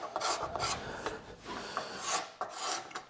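A card scraper's hooked edge rasps across wooden tabletop stock during shaping, in several short, close scraping strokes with brief pauses between them.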